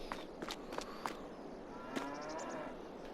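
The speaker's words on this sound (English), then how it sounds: "Might just check on these cows while I'm here." Cows in Farming Simulator 22 give a few close, fairly quiet moos, mixed with soft thumps of footsteps against a low ambient background.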